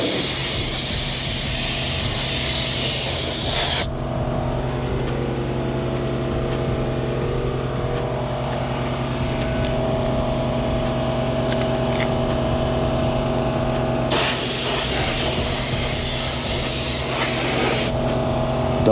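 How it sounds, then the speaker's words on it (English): A Rag Company Ultra Air spray applicator hisses in two loud, steady bursts while spraying a car tire, with a low motor drone continuing between and after the sprays. "sometimes I like to spray a little bit back here as well"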